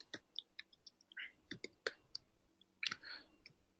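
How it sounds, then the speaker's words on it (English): Typing on a computer keyboard: quiet, uneven clicks and taps in short bursts with brief pauses, close by and with no talking. "So let me just go ahead and type this again."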